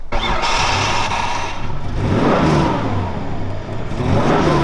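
A used car's engine cranks and catches, then revs up and settles, loud and close, with the engine note rising and falling over several seconds and no voices.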